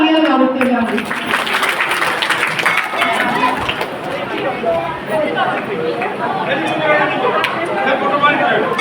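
An audience at a Bhagwan Parshuram temple program claps together, a dense, sustained patter of many hands mixed with crowd chatter and a voice talking over it.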